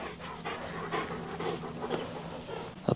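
A dog named De Niro pants steadily while sniffing around a seaside village lane in Footdee, Aberdeen, with quick, rhythmic breaths close by, ending in a couple of louder snuffs.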